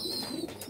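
A white pigeon coos close by, low soft burbling calls repeated several times with faint background noise.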